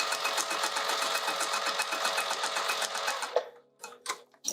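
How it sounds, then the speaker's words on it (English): A sewing machine stitches a fabric pouch in a fast, steady run of needle strokes that stops after about three seconds, followed by a few soft handling clicks. "I gotta remember to stitch on the correct part"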